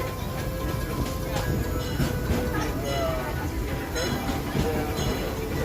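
A Tomorrowland ride train at Disneyland, California, rumbles and clatters along its track at steady volume, with faint squeals and a voice talking over the noise.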